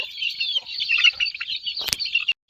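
A brooding hen sitting on eggs makes soft, continuous clucking and low churring nearby, broken once by a brief sharper rustle or squawk, then stopping abruptly.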